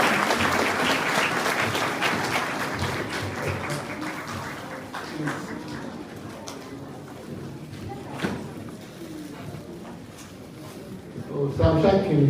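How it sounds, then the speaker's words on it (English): Audience applause for a speaker at a student math festival swells loudly at first, then thins and fades away over several seconds, leaving room noise and a brief thump near the end. "Let us have a round of applause for Mr."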